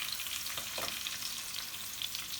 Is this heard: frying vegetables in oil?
yes